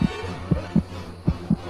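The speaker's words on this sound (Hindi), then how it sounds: "मनन का दिल जोरों से धड़कने लगा" Heartbeat sound effect in an animated Hindi horror story: five low, thudding beats at a steady, fairly quick pace, alone over a quiet background.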